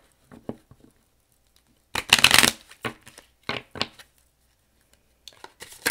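A deck of oracle cards is shuffled close by in short riffles and slides, with one loud burst in the middle and softer shuffles before and after quiet gaps.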